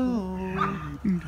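A dog named in a taco-feeding scene whimpers and yips softly while being offered a taco, its whiny tonal cries rising and falling close by, mixed with a person talking over it.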